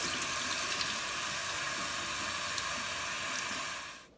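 Cold tap water runs steadily over potatoes in a kitchen sink, a continuous close hiss and splatter with no talk, cutting off at the end.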